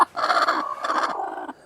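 Native desi hen on a poultry farm giving a run of close, moderately loud clucks in two or three bursts, with no talking.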